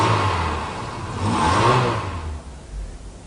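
The engine of a used car at an auction is started and revved once, swelling to a peak and then falling away to a low idle. It is close and short.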